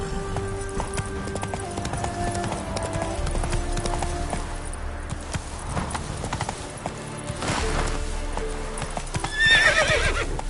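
A horse in the video game The Witcher 3 gallops with rhythmic clip-clop hoofbeats, then neighs loudly near the end over a background of ambient game sound.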